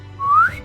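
A human voice imitates a cartoon slide whistle with a single quick rising whistled tone lasting under half a second, clear and close.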